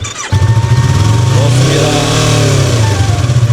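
A motorcycle engine catches after a brief silence and keeps running loudly, revving up and settling into a steady, throaty rumble close by.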